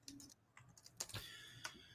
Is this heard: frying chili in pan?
no